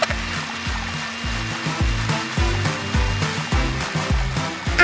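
A kitchen machine blends chunks of aloe vera with a loud, whirring drone that pulses in quick uneven surges as the pieces tumble inside. It runs close and steady throughout, with no talking.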